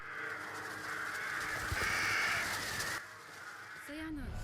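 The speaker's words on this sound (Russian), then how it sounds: "И видит над собой стаю ворон." A flock of crows caws in a sustained, dense chorus over a noisy background, with a speaking voice running over it.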